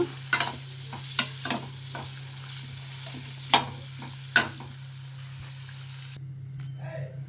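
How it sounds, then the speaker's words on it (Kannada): Red chilli powder fries in a pan for dhaba-style palak paneer, with a low sizzle under a steady hum and a series of sharp, close spatula scrapes and taps at uneven intervals. "ಒಂದು ಚಮಚ ಚಿಲ್ಲಿ ಪೌಡ್ರ್ ಹಾಕ್ಕೊತ ಇದ್ದೀನಿ ಮೆಣಸಿನ್ಕಾಯಿ ಪುಡಿ ಕೆಂಪು ಮೆಣಸಿನ್ಕಾಯಿ ಪುಡಿ ಹಾಕ್ಕೊತಿದ್ದೀನಿ ಸ್ವಲ್ಪ ಫ್ರೈ ಮಾಡ್ಕೊಳ್ಳೋಣ"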